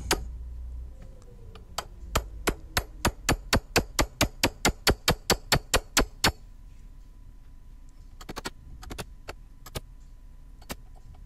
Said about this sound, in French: Je vais essayer avec un petit burin plat,